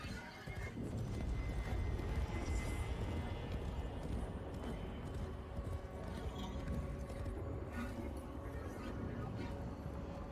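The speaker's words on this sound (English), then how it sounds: "Instant horse." A horse gallops through Duviri in the Warframe video game, its quick, steady clip-clop of hooves running throughout with a whinny mixed in, loud and close amid other game sounds.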